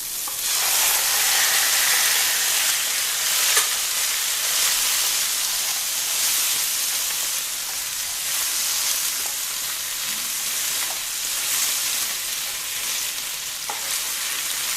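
Chicken pieces tossed into a pan of light-brown fried onions sizzle loudly and steadily, a dense continuous frying hiss with occasional crackles and stirring clinks throughout.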